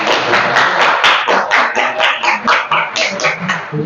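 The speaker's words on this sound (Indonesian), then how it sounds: "Tepuk tangan dulu, Rizka." Pupils in a classroom clap as a student comes to the front. The close, loud, uneven bursts of hand claps last about four seconds before thinning out, and no talk is heard.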